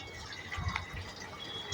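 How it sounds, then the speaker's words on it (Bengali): Hot water poured into a pan of Jomatiya pork curry with fried garlic, giving a faint, brief splash and trickle of liquid in a quiet kitchen. "তারপর গরম জলটা দিয়ে দিচ্ছি।"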